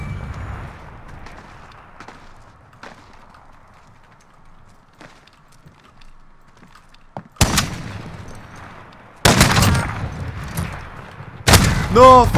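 Sniper rifle shots in Call of Duty Modern Warfare, three loud sharp cracks late in the clip after a stretch of quiet game ambience and faint footsteps, each blast trailing into ringing noise.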